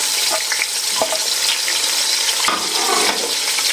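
Chicken with garlic and ginger fries in hot oil, giving a loud, dense, continuous crackling sizzle up close, broken by stirring scrapes and a sharper burst partway through, with no talking.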